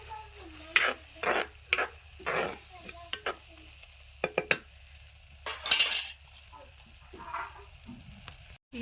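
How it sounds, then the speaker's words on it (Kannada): Sambar masala frying in oil in a pan, with irregular close scrapes and clinks of a spoon against the pan over a soft sizzle, separated by quiet gaps. "ನೋಡಿರಿ ಮಸಾಲೆ ನೋಡಿರಿ ಎಷ್ಟು ಚಂದ ಫ್ರೈ ಆಗ್ಯದ ಅಂತ ಹೇಳಿರಿ"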